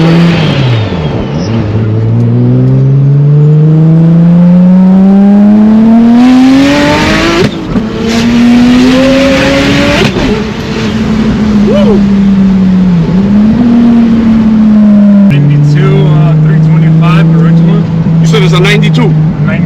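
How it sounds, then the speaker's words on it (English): A turbocharged 1200 HP BMW E30 with a swapped S52 engine accelerates hard through several gears, pitch rising and dropping with each shift, loud and close from inside the car. "Hold on, so they can hear that turbo."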